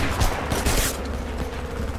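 A brief, loud burst of rapid gunshots from the shooter game Homefront, with sharp cracks and some mechanical clatter, close up and with no talking.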